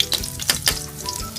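Cooking oil heating in a pan gives off a soft, crackling sizzle with a few sharper pops and spatters, close by and with no talking.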